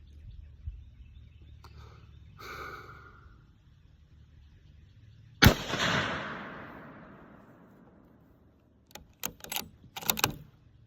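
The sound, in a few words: 270 caliber rifle shots at the range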